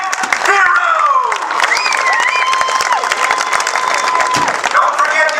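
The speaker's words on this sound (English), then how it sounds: "A more round of applause, ladies and gentlemen." A crowd applauds and cheers loudly at the unveiling of the Project American Heroes drag racing hot rod, with whistles and shouts rising over dense continuous clapping.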